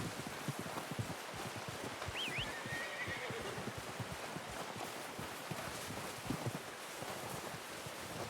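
A horse whinnies once in Red Dead Redemption 2, a short rising-and-falling call set against a steady wash of rain-like rustle and scattered hoof or footstep knocks.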